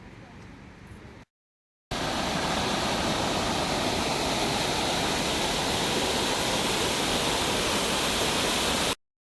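Shypit waterfall in the Carpathians roars as a steady, loud, dense rush of falling water; a brief quieter stretch with talk comes first, then a short break.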